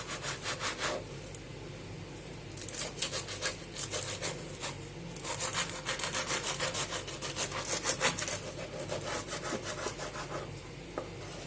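A knife saws back and forth through crisp, flaky pastry, a steady rasping scrape repeating close by with no talking.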